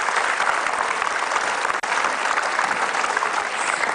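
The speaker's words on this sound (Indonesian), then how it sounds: "boleh kita beri tepuk tangan untuk Mila?" A studio audience at an Indonesian talk show bursts into full, dense applause, loud and continuous for several seconds with a steady wash of many hands clapping and no talk over it.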